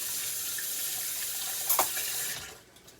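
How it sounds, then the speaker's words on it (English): Tap water runs steadily over hands at a kitchen sink, a broad close hiss with a brief splashy burst midway before the flow is cut off near the end. "You just rinse my hands off."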